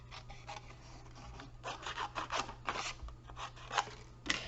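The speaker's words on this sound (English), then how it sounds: "I'm just going to just use my scissors to cut that" Scissors snip through a paper sentiment piece for a basket card, a run of close, crisp rasping cuts in uneven bursts, each stroke slightly louder toward the end, with no talking.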